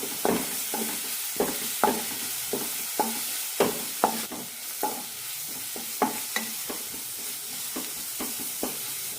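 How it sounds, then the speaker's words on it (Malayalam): Shallots and green chillies sautéing in a pan, a soft sizzle under repeated sharp scrapes of a spatula stirring at an irregular pace, close and fairly quiet. "ഒരു മിനിറ്റ് നന്നായി വഴറ്റി കൊടുക്കാം ചെറിയുള്ളിയുടെ പച്ചമുളകെല്ലാം പോകണം"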